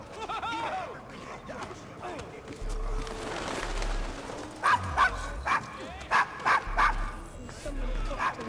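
A dog barks in the video game Assassin's Creed Syndicate, letting out a quick run of sharp, close yips and barks in the second half, over a murmuring street background.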